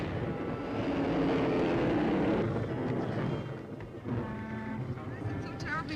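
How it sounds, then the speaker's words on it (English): A propeller airplane flies through a storm in a radio drama sound effect, a loud, steady engine roar that dips briefly near the end before surging back, with voices heard over it. "If this plane lasts through the meteor shower,"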